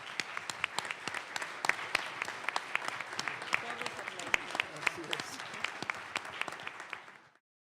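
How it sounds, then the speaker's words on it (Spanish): Collective audience applause at an international congress session, a steady mass of many hands clapping that holds evenly for about seven seconds, then stops abruptly. "propongo que para agradecer a los participantes les demos un aplauso colectivo"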